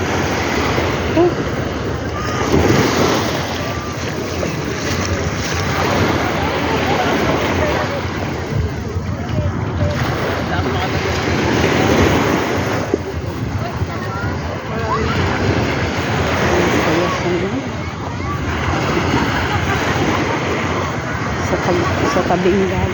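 Surf washing onto a beach in Bataan, a steady broad roar of breaking waves and wind close by, with voices murmuring over it at times.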